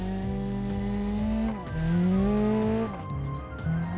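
A Pessima rally car from BeamNG, a mid-90s Group A build with a modified 2-liter turbo engine, launches hard. Its engine revs climb through quick gear changes with a steady harmonic whine and no talk over it.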